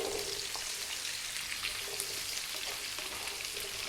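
Chopped onion and carrots sizzle in a pan of oil over just above medium heat, a soft continuous hiss with light crackles, faint and steady, no voices.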